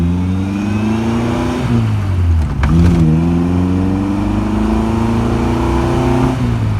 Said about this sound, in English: we're going to do a relatively hard acceleration